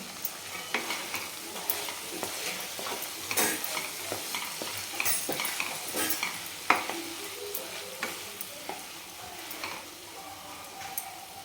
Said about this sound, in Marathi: छान हलवून घ्यायचं आहे कोथिंबीर टाकून